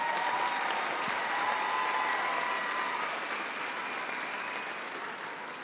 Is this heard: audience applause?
yes